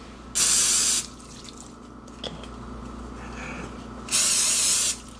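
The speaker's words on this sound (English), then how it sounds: "Now it's time to spray our hands." Two short hissing sprays from an aerosol can of cooking spray onto hands, about four seconds apart, with a faint click and quiet rustling between them. A voice speaks briefly.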